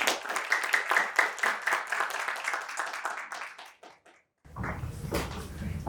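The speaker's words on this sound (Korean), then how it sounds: "박수로 환영해 주시기 바랍니다" An audience at a university innovation forum in a hall gives warm applause to welcome a speaker. The clapping fades out, and a quieter, roomy background hum follows.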